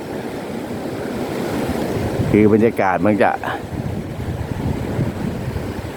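Sea waves wash steadily onto Mae Ramphueng beach in Rayong, Thailand, with wind noise. Someone talks briefly in the middle of the clip.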